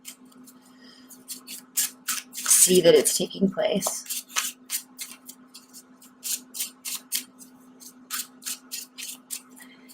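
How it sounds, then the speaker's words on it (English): A tarot card deck is shuffled quickly by hand, a rapid series of crisp papery riffles and flicks close by, with a short spoken phrase partway through. "I'm going to do a really quick additional shuffle"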